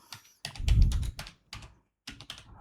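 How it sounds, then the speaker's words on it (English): Typing on a computer keyboard while entering a location into a search field: bursts of quick, close keystroke clicks separated by short pauses, with one louder, denser flurry of taps near the start. "here I am typing here New York, USA"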